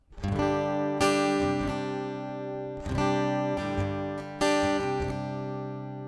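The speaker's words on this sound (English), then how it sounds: "it's a piezo pickup. It sounds like a piezo pickup." Plucked Martin acoustic guitar through a piezo pickup, bright, slightly thin, direct tone; a few chords strummed and left ringing, with no voices.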